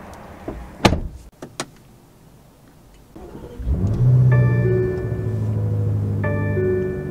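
A 2022 BMW M5 CS takes sharp door clunks and handling knocks at close range, then a motor whirs on with sustained electric tones, likely a power-adjustable steering wheel or seat moving, in a quiet cabin.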